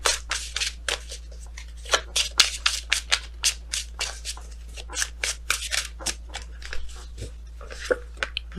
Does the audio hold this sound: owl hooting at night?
no